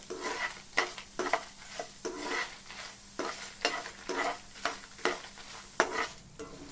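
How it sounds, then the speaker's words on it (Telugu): Urad dal, cumin, coriander and fenugreek seeds dry-roasting in a pan, with a steady dry rattle and a dozen or so regular scraping stirs, close and moderately loud, no voices. "ఒక స్పూన్ మినప్పప్పు అర టీ స్పూన్ జీలకర్ర ఒక స్పూన్ ధనియాలు కొన్ని మెంతులు వీటన్నిటిని కలిపి దోరగా వేయించుకోవాలి"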